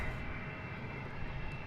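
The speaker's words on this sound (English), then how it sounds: "That's an Airbus A319." A United Airbus A319 airliner bound for San Francisco approaches the runway at DFW, its engines a steady broad roar at moderate distance, even and unbroken throughout with no voices.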